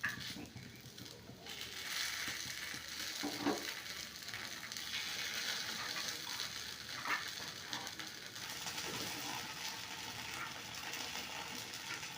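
Paniyaram batter frying in a pan makes a soft, continuous sizzle, with faint crackles and occasional clinks layered on top at low volume.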